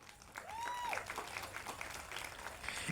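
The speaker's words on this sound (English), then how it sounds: "To give PG a round of applause for organizing that." An outdoor crowd at a domestic violence walk claps for the organizer, a faint, steady patter of applause lasting a few seconds, with a bit of voice mixed in.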